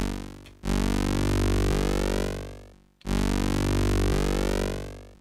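Elektron Syntakt synthesizer playing a dual VCO sequence with no modulation, two long sustained buzzy tones that swell and fade, each lasting about two and a half seconds, loud and alone.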